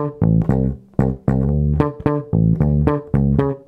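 First two bars of a disco bass riff on bass guitar, a steady run of about a dozen bouncy, clipped notes in a syncopated groove, close and prominent with no other sound.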